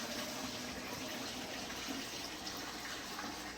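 A runny mix of mostly diesel fuel and old engine oil from a 3rd gen Dodge Ram Cummins flush pours steadily into a drain pan, a soft continuous liquid gush heard fairly faint and unbroken.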